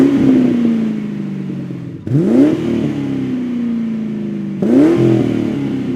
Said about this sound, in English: I went with the very popular and very affordable Pype-Bomb catback from Pipes